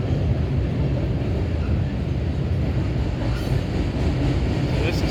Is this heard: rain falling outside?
no